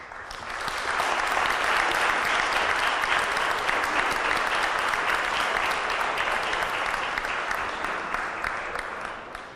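Sustained audience applause in a library hall following a Spanish poetry reading on Book Day, a dense, steady wash of many hands clapping that swells quickly and fades slightly at the end, with no voices over it.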